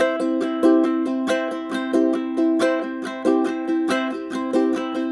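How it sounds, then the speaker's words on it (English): A ukulele strummed in a steady, repeating triplet rhythm, bright and close, with clear accented chords and no voices. "The sound of a strummed triplet sounds like this."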